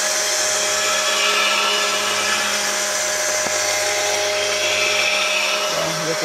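An electric blender whirs as it blends a homemade tomato and pepper broth, giving a loud, steady motor hum with no breaks, alone without talk.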